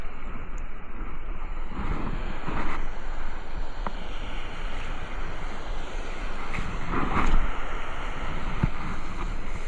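Big sea waves surging and breaking around a small fishing boat, a loud rolling wash with gusts of wind buffeting the microphone, swelling in pulses throughout with no talk.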